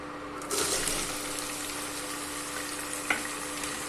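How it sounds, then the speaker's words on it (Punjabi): Onion and garlic fry in a pan of toasted cumin for besan bhurji, a steady broadband sizzle that swells as the ingredients drop in, with a brief clatter near the end; no one speaks. "ਪਿਆਜ਼ ਤੇ ਲਸਣ ਨੂੰ ਤਿੰਨ ਤੋਂ 4 ਮਿੰਟ ਤੱਕ ਚੰਗੀ ਤਰ੍ਹਾਂ ਭੁੰਨਾਂਗੇ"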